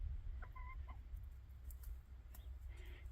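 Chickens cluck softly and sporadically outdoors in the snow, with a few short calls from a flock including a large rooster, faint over a low steady background rumble.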